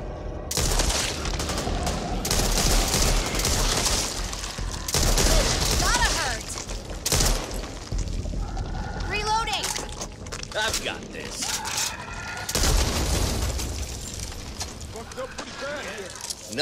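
Submachine gun fire in the shooter game Back 4 Blood: loud, sustained rattling bursts repeat across the clip, mixed with game voices and other combat noise.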